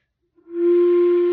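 A flute holds a single high C, played with the bottom lip lifted slightly, entering after a short breathy attack and sustaining as a steady, clear, fairly loud tone with no other sound.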